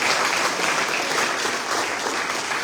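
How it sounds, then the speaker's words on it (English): Audience at an awards celebration breaks into steady, dense applause, loud and sustained with no voices standing out. "you should all give yourself a round of applause for everything you put in"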